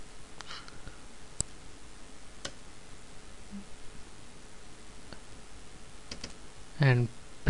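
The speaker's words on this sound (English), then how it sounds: "Press Ctrl+C on the keyboard to copy the post." Sparse clicks from a computer keyboard being pressed while copying in a web editor, a handful of faint, isolated taps spread over quiet room noise, with a brief vocal sound near the end.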